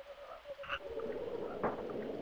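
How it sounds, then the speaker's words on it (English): Frog croaks from the SNES game Secret of Evermore, a few short croaking calls over a steady game music and ambience bed, moderately faint. "Avoid the frogs as much as we can and the spiders."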